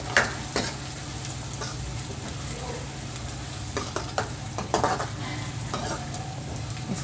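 Chopped onions frying in a pan until light brown, a loud steady sizzle under frequent scraping stirs of a spoon, close and continuous.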